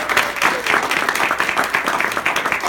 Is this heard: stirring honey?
no